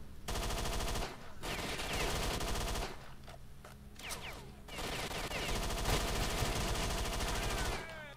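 Gunfire in the S.T.A.L.K.E.R.: Shadow of Chernobyl video game, with dense bursts of rapid automatic shots in several long volleys separated by brief gaps, loud and close, with no talk over them.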